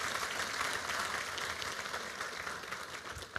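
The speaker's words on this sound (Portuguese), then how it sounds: "Uma salva de palmas para esses homens que se colocaram de pé" A congregation at a church gathering applauds the men who stood up, a dense, steady wash of clapping heard from a moderate distance for the full stretch, without pause.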